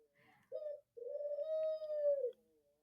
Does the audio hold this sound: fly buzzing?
no